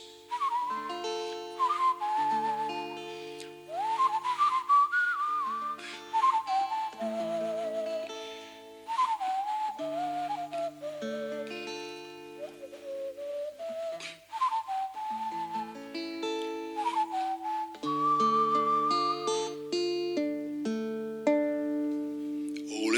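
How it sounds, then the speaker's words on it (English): Someone whistles a slow, wandering melody over a soft sustained accompaniment, the notes gliding and bending between phrases. "might whistle at the beginning of this one just to see if I can"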